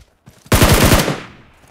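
A short, loud burst of automatic gunfire in PUBG Mobile: about half a second of rapid, evenly spaced shots fired close up, trailing off into a fading echo after a quiet lead-in.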